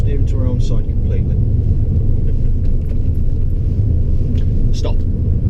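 A car accelerates along a straight road during a driving lesson, its engine a steady low rumble close by, with faint ticks and knocks above it and an instructor talking over it.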